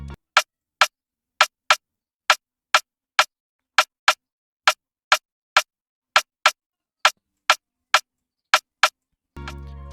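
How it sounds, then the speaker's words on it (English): Crisp, short snare-type sample in an Afrobeat beat, struck alone about twenty times in a steady even rhythm, bright and close, with a brief burst of broadband noise at the very end. "It's a snare sound. So this how it sound like."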